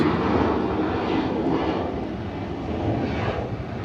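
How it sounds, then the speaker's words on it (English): A CRJ 900 regional jet departs for Mobile at Atlanta's airport, its steady broad engine roar holding fairly level throughout with no voices over it. "So we got a CRJ 900 going out here to Mobile."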